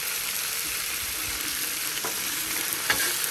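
New York strip steak sizzling on a Blackstone griddle while being stirred, a steady hissing fry with occasional soft scrapes and taps, close and continuous, no talk.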